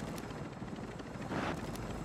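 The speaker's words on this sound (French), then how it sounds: "l'hélicoptère il me suit là-bas" A helicopter in a video game, a continuous rotor rumble and thrum that swells briefly, with no talk over it.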